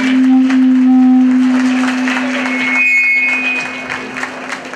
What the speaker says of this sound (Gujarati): તાળી સાથે વધાવીએ।